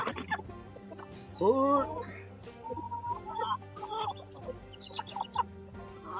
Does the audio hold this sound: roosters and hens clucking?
yes